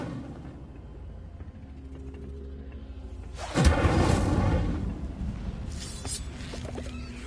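Incendio fire spell cast in the Hogwarts Legacy video game, a sudden loud whooshing burst at once that swells into a roaring, rumbling blaze, then slowly fades over a steady low background hum.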